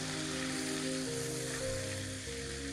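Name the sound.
garlic frying in pan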